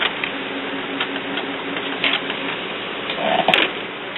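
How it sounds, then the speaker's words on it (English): A Canon Pixma iX6520 printer fitted with a continuous ink supply system runs a test pattern, its steady mechanical whir and rhythmic carriage clicks continuing throughout, with a brief sharper clack near the end. "Now we're printing a test pattern"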